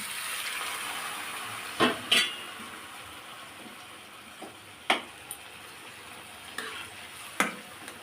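Hot water is poured into taro frying in a pan for a hilsa fish curry, giving a steady, fairly quiet hiss and steam with a few sharp utensil clanks and stirring knocks.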